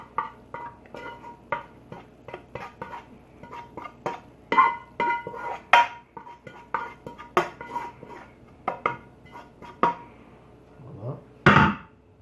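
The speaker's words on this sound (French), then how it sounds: "On va bien mélanger le tout." Cantonese fried rice with peas, omelette, onions and bacon being stirred in a pan: a close series of irregular scraping clinks and knocks of a utensil against the pan, with a louder clatter near the end.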